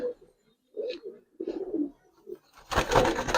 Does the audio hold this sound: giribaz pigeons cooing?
yes